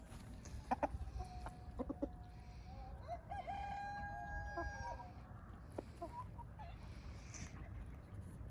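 A rooster crows nearby amid scattered clucks from several chickens, over a low outdoor rumble.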